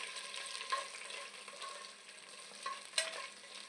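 Whole spices (shahi jeera, cloves, cinnamon, cardamom, marathi moggu) frying in oil for bagara rice, a faint soft crackle with a few light ladle taps against the pot, no voices.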